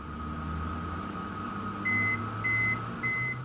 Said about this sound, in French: Et je mets le tout pendant 30 secondes au micro-ondes.